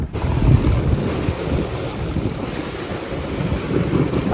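Strong wind roars and waves rush around a sailboat a few hundred feet offshore in Greece, a steady loud buffeting with heavy wind noise on the microphone and no talking.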